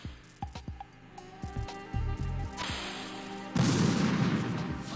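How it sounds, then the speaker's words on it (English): Explosions and gunfire in the video game Metal Gear Solid 2: a burst of sharp cracks and thuds in quick succession, then a heavier blast that swells into a loud rumbling roar near the end. "Olga's just hearing the explosions"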